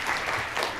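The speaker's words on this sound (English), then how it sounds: "Let's give Veronica one more round of applause." A short burst of clapping from a crowd, fairly faint and brief, with no voices over it.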